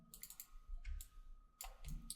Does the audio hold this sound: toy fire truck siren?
no